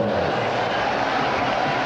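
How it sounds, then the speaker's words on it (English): Crowd noise from the arena after the Michael Moorer vs Axel Schulz IBF heavyweight title bout, a dense, loud, continuous roar of applause and cheering with no break. "a round of applause once again for Axel Schulz"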